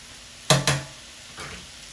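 Shrimp sizzling in a hot pan during a stir fry, with two sharp bursts of hissing and clatter close together, then a softer third stir, all brief and near with no talking.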